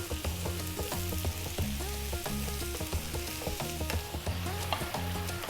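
Mushrooms and potatoes stir-fry over high heat for an Indian potato mushroom curry, giving a steady, loud sizzle with repeated scraping and stirring strokes throughout, no voices.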